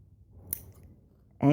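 Scissors make a quick, sharp snip while cutting fabric for trapunto quilting on a Janome MC10K embroidery project, a lone crisp click in a quiet room, followed by a speaking voice starting up at the very end.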